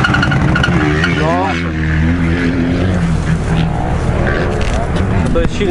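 A heavy motorcycle engine on a cross enduro project bike revs loudly and continuously, its pitch rising and falling with the throttle, while people talk over it.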